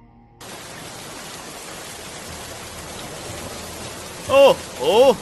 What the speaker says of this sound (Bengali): এখনই বড়শিটা ফেললাম আমি, আর বৃষ্টি এসে হাজির